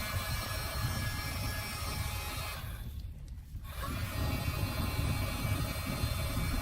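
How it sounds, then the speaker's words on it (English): A Bison Airlighter 420 fire starter's blower drives air into a wood stove fire, giving a loud, steady roaring hiss that briefly drops away midway before resuming at full force. "And then it has the blower to blow the air"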